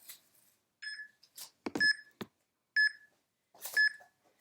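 A workout interval timer gives several short, bright electronic beeps, singly and in pairs, clean and close against near silence.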